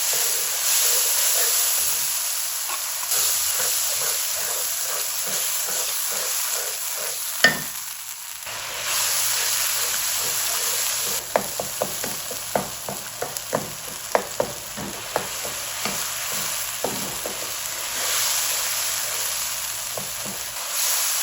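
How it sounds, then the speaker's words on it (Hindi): Spice masala fries in oil in a karahi for dhaba-style aloo gobi sabzi, a loud continuous sizzle broken by a run of sharp scraping strokes as a ladle stirs and knocks against the metal pan. "आपने मसाले की इतनी देर भुनाई करनी है कि जब तक ये अपना ऑयल छोड़ ना दे।"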